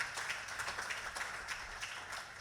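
Quiet congregational applause at a church service, steady broadband clapping from a crowd heard at a distance, with no talk.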